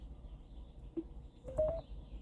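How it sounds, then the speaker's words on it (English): A mobile phone rings nearby, a short electronic chirping tone that rises then repeats briefly against a quiet room. "it's my phone"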